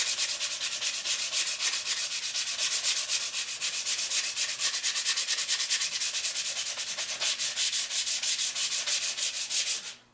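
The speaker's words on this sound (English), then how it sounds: "All these corners here, I have to sand this down" Hand sanding the corners of a wooden noodle board backboard, a close rhythmic rasping of abrasive on wood in quick back-and-forth strokes that continue steadily before stopping at the end.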